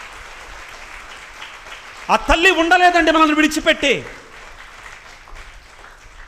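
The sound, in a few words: congregation applauding loudly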